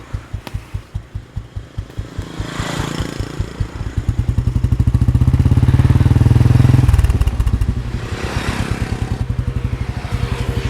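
A motorcycle engine chugs close by in a steady, pulsing beat, then revs and swells louder as the bike pulls away and rides on, and the rhythm settles again near the end.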